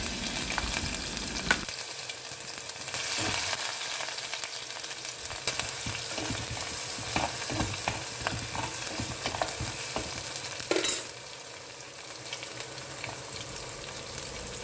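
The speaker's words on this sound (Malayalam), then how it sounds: "ഇനി ചതച്ച് വെച്ചിരിക്കുന്ന വെളുത്തുള്ളിയും ഇഞ്ചിയും ഇട്ട് കൊടുക്കുക" Crushed garlic and ginger fry in hot oil that already holds fenugreek seeds, giving a steady close sizzle that runs the whole time. Scraping stir strokes and clinks break through it, with one louder burst near the end.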